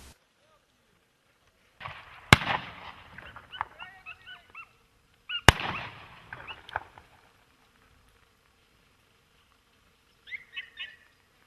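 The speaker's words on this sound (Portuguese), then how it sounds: "Nem sempre os tiros são certeiros." Rabbit hunters fire two sharp, loud gunshots about three seconds apart in the Alentejo countryside. Each crack is followed by brief rustling and movement noise, then quiet with a few faint distant sounds.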